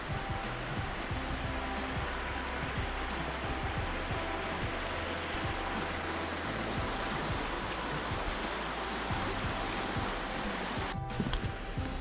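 Steady roaring rush of a waterfall in Paanajärvi National Park, Karelia, a continuous broadband hiss at moderate volume with no voices.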